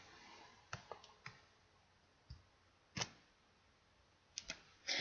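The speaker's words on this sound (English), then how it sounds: "you want to hold the function key, the Windows key, and the print screen keys all at the same time" Computer keyboard keys pressed together for a Windows 8 screenshot give a handful of sharp plastic clicks spread out over a few seconds, close up and fairly quiet, with no talking.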